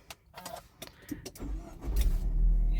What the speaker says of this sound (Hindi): ये मैंने गाड़ी स्टार्ट कर दी है।